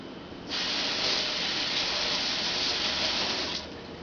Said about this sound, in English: Wash the spoon real quick.